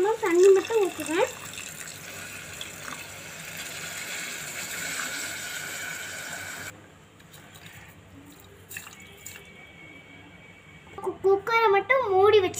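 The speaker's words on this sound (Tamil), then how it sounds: "நாலு சம்மா தண்ணி மட்டும் ஊற்றுவேன்." Water poured into a pressure cooker holding soaked rice, a steady running, filling rush lasting several seconds, close by, before it stops and faint kitchen sounds remain; a voice talks briefly at the start and end.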